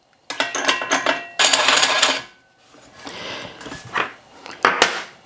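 Metal parts of a meat grinder clatter and clank together during assembly in close, irregular bursts of clinks and scrapes separated by short quieter pauses.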